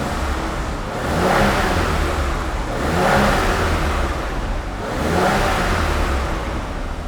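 BMW E21 323i six-cylinder engine, warmed up to mid temperature, revved repeatedly in three smooth swells roughly two seconds apart, rising and falling between a steady idle; close and fairly loud with no voices.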